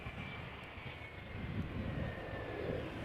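KLM Embraer 175 arriving from Aberdeen on approach to Amsterdam Schiphol, a distant low engine rumble with a faint whining tone, gradually building, no voices present.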